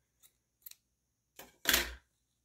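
Scissors snip crochet yarn after a slip stitch on a square flower motif for a crochet pillow: two faint small clicks, then two louder close snips near the end, with no talking.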